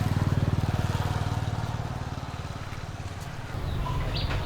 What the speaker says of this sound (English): One of Hoy's brothers is a tuk-tuk driver, so this is his